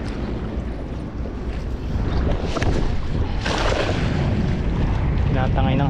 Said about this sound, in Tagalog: Tinatangay ng hangin.